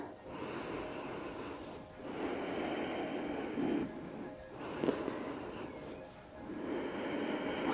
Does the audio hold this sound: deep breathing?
yes